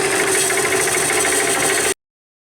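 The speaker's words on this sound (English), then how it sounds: "Let's take this to the bandsaw and see if we can't cut this in two and get a better look at what's happening inside" A bandsaw cuts a failed electrical outlet in two, giving a loud, steady buzzing whine with a rattling edge that runs for about two seconds and then stops abruptly.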